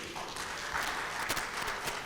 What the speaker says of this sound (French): les applaudissements sont un peu plus nourris qu'au début